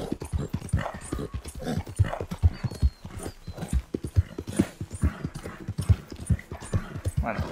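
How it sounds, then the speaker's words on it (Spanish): A horse gallops steadily in Red Dead Redemption 2, its hooves clip-clopping in a fast, even rhythm that continues throughout with a faint background hum. "Que el caballo se está portando súper bien y corre bastante rápido."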